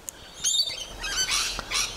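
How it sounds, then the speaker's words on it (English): Birds chirp in the trees with several short, bright tweets and trills, fairly close and clear, against a quiet outdoor background with no talking. "I've got lots of birds in the trees."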